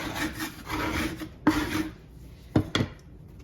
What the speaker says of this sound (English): Gonna scrape this a little bit here.